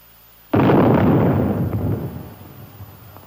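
A nuclear test shell fired from the Army's 280-millimeter gun detonates in a low airburst, heard as a single sudden, heavy boom followed by a rolling rumble that slowly fades.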